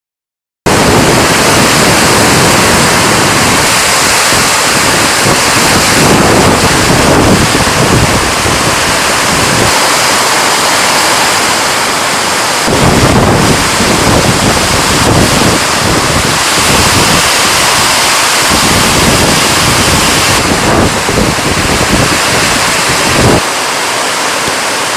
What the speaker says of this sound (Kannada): ಇಲ್ಲಿ ಜೋರು ಮಳೆ